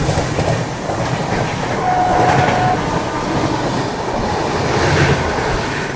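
The Secundarabad Rajdhani Express overtakes the Mahakaushal train on a parallel track, heard from on board as a steady loud rumble with rhythmic clickety-clack of wheels over rail joints and a brief faint squeal.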